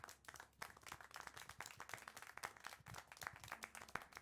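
Brisk, uneven clapping from a few pairs of hands in the video game Syberia: The World Before, close and continuous for several seconds, with no voices over it.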